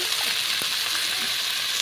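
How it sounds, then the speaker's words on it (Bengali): Mixed vegetables fry in hot oil with turmeric and salt for a fish ghonto, giving a steady, loud, continuous sizzle with a faint stir of a spatula and no voices. "এগুলোর উপরেই সবজিগুলো দিয়ে দিচ্ছি দিয়ে হলুদ লবণ দিয়ে ভালো করে ভেজে নিচ্ছি"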